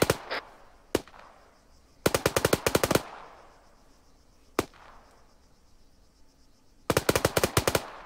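Gunfire in the video game Arma III: loud close bursts of rapid automatic fire, with a few single shots between them and a fading echoing tail after each volley.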